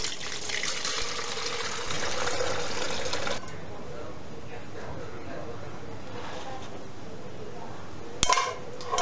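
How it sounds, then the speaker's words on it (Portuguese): Strained milk punch liquid pours and splashes steadily into a pot, a continuous close rushing sound, followed by a brief metallic clatter near the end. "numa jarra ou numa outra panela, a gente coa todo esse líquido"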